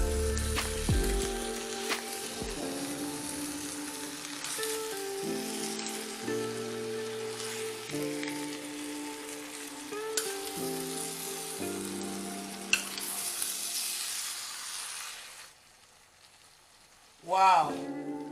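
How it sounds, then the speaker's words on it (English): Spaghetti jollof frying in a pot gives a continuous soft sizzle while it is stirred, with a low steady background underneath, before the sizzle drops away near the end and a brief clatter follows. "I'm going to just stir it a little bit, then break it down."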